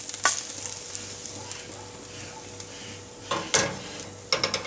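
A Spanish potato omelette, tortilla de patatas, frying in a frying pan after being flipped to cook the other side: a soft continuous sizzle with occasional sharp scrapes and clatters of a utensil near the end.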